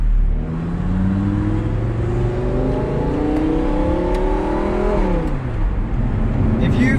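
An Audi R8 V10 Plus supercar fitted with a new exhaust revs loudly and steadily close by, its engine note climbing in rising sweeps before dropping back, with a voice talking over it throughout.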